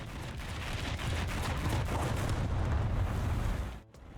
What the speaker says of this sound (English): Sounds of explosions, hits, shots of ground vehicles and air defense guns have received more dynamics and sharpness as well as punch in the low